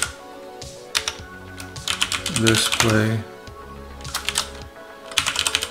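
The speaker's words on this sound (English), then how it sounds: "So much typing in COBOL." COBOL code is typed on a computer keyboard in quick bursts of close, crisp key clicks, with someone talking briefly in the middle.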